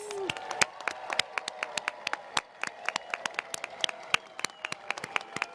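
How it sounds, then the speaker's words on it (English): Graduates receive a final round of applause at a college commencement ceremony, with many hands clapping steadily and sharply in a dense, continuous patter from a nearby audience. "asking for one last rousing round of applause for our graduates"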